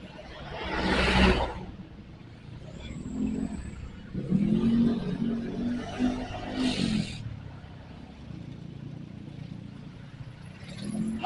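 Cars crawl through a traffic jam near Limbangan market, with a steady engine drone and traffic rumble heard from inside a vehicle, plus a few passing whooshes.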